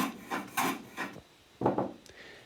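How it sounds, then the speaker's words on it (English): Strokes of a rasp cutting a 45-degree chamfer around a wooden mallet head, heard as several short, close rubbing scrapes in quick bursts separated by brief pauses. "it's adding a 45-degree chamfer all around the mallet head"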